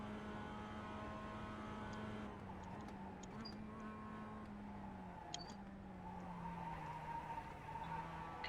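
Tires sliding and scrubbing on a Mazda race car in iRacing, a steady engine drone with a low skidding hiss running continuously throughout at moderate loudness.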